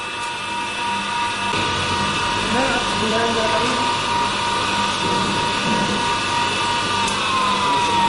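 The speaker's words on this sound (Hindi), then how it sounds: "इतना मिरर पॉलिश टाइप का काम इसी प्रोसेस इसी व्हील पर होता है।" Glass grinding and polishing wheel machine running steadily for round watch glass beveling and mirror polishing, a continuous loud whirring hum with a high steady whine and faint background talk.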